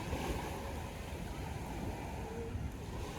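Sea waves wash steadily against the beach in a continuous broadband roar, with some wind buffeting the microphone throughout.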